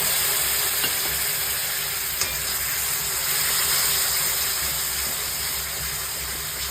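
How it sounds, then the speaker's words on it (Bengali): Potato cubes frying with cumin, coriander powder, salt and Kashmiri chili powder in a little water, being stirred: a loud, continuous close sizzle and hiss with faint scrapes, and no talk. "আলুটা দিয়ে একটু কষিয়ে নেব এবার আমি অল্প করে একটু জল দিয়ে একটু ভালো করে কষিয়ে নেব"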